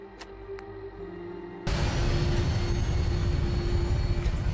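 An aircraft taking off in Fallout 4: after a quiet hum with a couple of faint clicks, a loud, steady engine roar suddenly kicks in and holds at full power.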